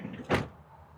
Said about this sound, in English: I'll close the door as we move on around here.